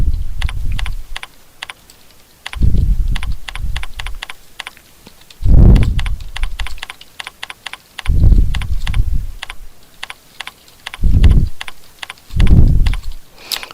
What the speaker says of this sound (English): So let me type it.